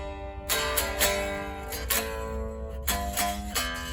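An electric guitar riff played with hybrid picking, using pick and middle finger, gives a series of bright plucked attacks with ringing notes, moderately loud and alone.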